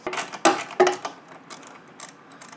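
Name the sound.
backing out temporary bolts while installing a trailer hitch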